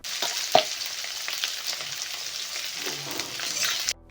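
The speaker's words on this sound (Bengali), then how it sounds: "কড়াইয়ে তেল দিয়ে তাতে মৌরি, দুটো কাঁচা লঙ্কা এবং তাতে 5 কোয়া রসুন দিয়ে ফোড়ন দিয়ে তার মধ্যে পেঁয়াজ দিতে হবে" Onion fries in hot oil in a kadai with fennel seeds, green chilies and garlic cloves, giving a steady close sizzle with a few sharp clinks of stirring, fairly loud and without speech.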